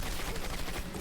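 Dense, continuous gunfire crackles in the World War II shooter game Turning Point: Fall of Liberty, a rapid unbroken burst of automatic fire at moderate volume with no pauses.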